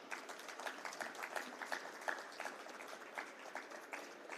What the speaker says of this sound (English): A big round of applause for Sri Vipul Shah.